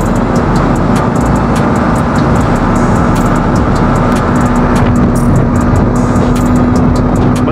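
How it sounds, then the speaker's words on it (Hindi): Dense, constant roar of many superbike engines on a flyover during a record ride of about 2,000 superbikes, heard from among the pack, loud and unbroken with wind rush throughout. "पूरे फ्लाईओवर में बाइक्स ही बाइक्स हैं।"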